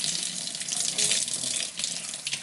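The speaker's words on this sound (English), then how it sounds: "I'm going to put my water back on" Tap water runs steadily into a sink while a makeup blending sponge is rinsed and squeezed, a loud continuous splashing rush with slight fluctuations up close.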